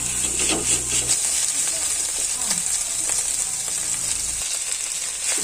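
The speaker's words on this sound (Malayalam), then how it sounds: "പിന്നെ ഒരു മീഡിയം കഷ്ണം ഇഞ്ചി ചതച്ച് വെച്ചിട്ടുണ്ട്, അതുകൂടി ചേർത്ത് നന്നായിട്ട് ഇളക്കി കൊടുക്കാം." Crushed garlic and ginger fry in a pan for chicken biryani, with a loud, continuous close sizzle and hiss and occasional scraping from stirring.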